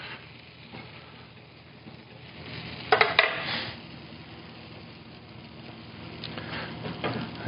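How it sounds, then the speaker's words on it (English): Steady crackling sizzle of a grilled cheese sandwich frying in a pan, with a brief burst of clinking metal partway through and a soft hiss throughout. "You can hear that sizzle."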